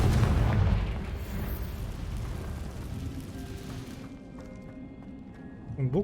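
A Confringo fire spell goes off in the video game Hogwarts Legacy with a loud, rumbling burst at the start that slowly fades. A voice speaks over it, and a second short burst comes at the very end.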